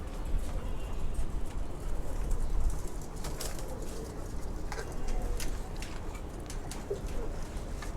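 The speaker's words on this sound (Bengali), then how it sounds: "আমি মাদি কবুতরটা নিয়ে আসি।" Pigeons coo softly in a loft amid steady background noise, with occasional faint wing and handling sounds and no clear talk.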